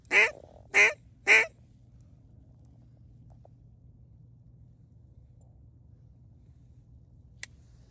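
Three loud, close duck quacks ring out in quick succession during a duck hunt, followed by a long stretch of quiet outdoor hum and a faint click near the end.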